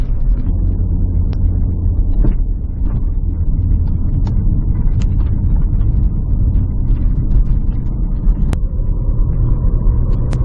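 Porsche Cayenne S V8 stuck in third gear at almost 50 mph, a steady loud low engine drone and road rumble holding one even pitch throughout with no gear change, close and continuous.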